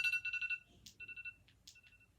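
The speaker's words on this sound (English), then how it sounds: "Today we are going to be rating iPhone ringtone noises." An iPhone ringtone plays alone: short bright electronic tones in quick repeating bursts, a brief pause, then a second melodic phrase of chiming notes, clear and close.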